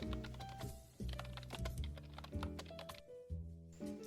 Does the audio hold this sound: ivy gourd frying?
no